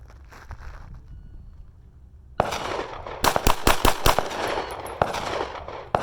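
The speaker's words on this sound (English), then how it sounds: "5 rounds in 2 seconds from the ready" Five rapid pistol shots crack in quick succession at an FBI qualification course, loud and close, following a few seconds of quiet handling noise and preceded by one sharp report, with faint ringing after.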